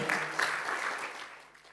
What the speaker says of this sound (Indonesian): Ayo beri tepuk tangan bagi Tuhan kita